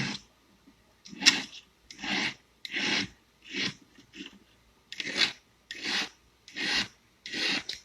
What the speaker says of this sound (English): I'm just chamfering these edges so they're a little bit beveled